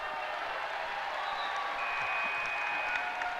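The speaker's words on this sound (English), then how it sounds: "Crowd gave him a little ovation." A basketball crowd at a Waupun vs Ripon game applauding the referee after he freed a net stuck on the rim: a steady, dense wash of clapping that holds for the whole stretch.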